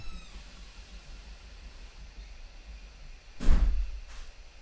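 A door opens or closes with one fairly loud, short bump that fades quickly, heard alone over a low, steady room hum.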